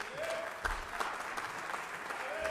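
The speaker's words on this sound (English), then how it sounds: "Let's give a nice warm round of applause to drum instructor" A theater audience gives a short burst of steady applause for a drum instructor, moderately loud and even, with a few low thumps mixed into the clapping.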